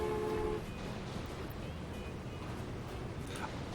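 A train rolls along in the Transport Fever tycoon game as a steady, moderately loud rumble, with a brief tonal horn-like note at the very start.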